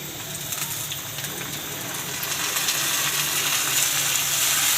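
Steady hiss and crackle of boiled red amaranth greens frying in a hot pan, growing slightly louder, with faint scraping.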